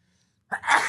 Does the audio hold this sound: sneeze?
yes